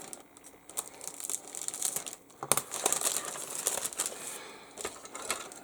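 A heat-sealed plastic bag holding dark plastic model kit parts is cut and torn open near at hand, giving bursts of crinkling and rustling plastic with sharp crackles, without speech.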